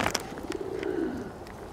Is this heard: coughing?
no